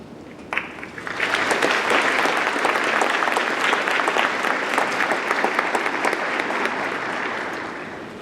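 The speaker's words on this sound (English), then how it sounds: "everyone that has supported our graduates deserves a very generous round of applause" A graduation-ceremony audience breaks into a generous round of applause, a few scattered claps swelling within a second into dense, steady clapping from a large hall that slowly tapers toward the end.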